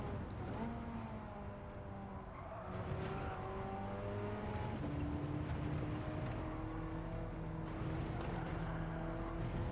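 Race car in Gran Turismo 7 during a National A6 licence test, engine whine stepping through gear changes as it brakes and slides, steady and continuous at moderate loudness with faint tyre noise beneath.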